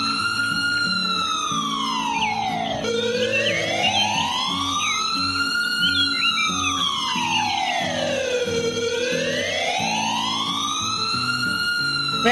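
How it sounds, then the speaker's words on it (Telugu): An ambulance siren wails loud and close without a break, its pitch sweeping slowly up and down in long cycles, over a background of lower tones, in a toy-doll story set in an Indian village. "ఇంతలో అంబులెన్స్ వస్తుంది."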